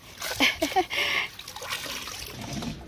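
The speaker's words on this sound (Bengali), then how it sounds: "কয়েকটা গাছে একটু জল না দিলেই নয়।" Water splashes and trickles onto garden chilli plants in short bursts, a close, gentle pouring with brief gaps, faint voice-like sounds in the background.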